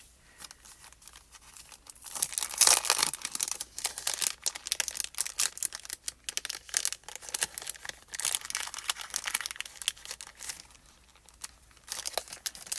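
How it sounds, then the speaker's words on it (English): Plastic packaging crinkles and tears as it is pried open around card-making supplies from a stencil and die set, a steady close-up rustle with louder crackling bursts and no talking. "The hardest part is getting them out of the packaging."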